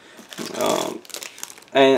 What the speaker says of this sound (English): Now I'm trying to open the next plastic bag.